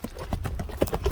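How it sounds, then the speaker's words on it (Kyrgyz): A horse's hooves clip-clop close by in a quick, steady rhythm, fairly loud, with a few sharper strikes near the end. "Мына атты өзүңүздөр көрүп турасыздар."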